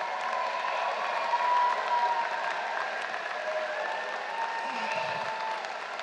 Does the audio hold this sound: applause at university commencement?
yes